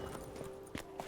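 Hoofbeats from Roach, the horse in The Witcher 3: Blood and Wine, land as a few soft, separate clip-clops over a steady low game ambience and tonal hum, fairly close and not loud.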